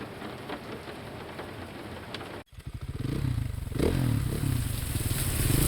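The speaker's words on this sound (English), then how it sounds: "I end the call and rush towards the hospital on my motorbike, grabbing nothing but my jacket and helmet to shield me from the rain." Steady heavy rain hisses throughout, then a motorbike engine starts with a cut and revs up, rumbling close and loud beneath the downpour in a dramatised rainy night ride to a hospital.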